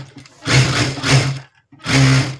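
A sewing machine stitching a blouse seam runs in two bursts, a buzzing motor drone with rapid needle clatter, stopping briefly between runs, close and loud with no talk.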